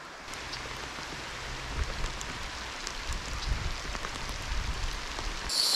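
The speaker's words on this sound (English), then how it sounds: "Now it is raining good." Steady rain pours down on a riverbank at a trout stream in Whitewater State Park, Minnesota, a dense, even hiss of drops on foliage and ground continuing throughout, with no speech.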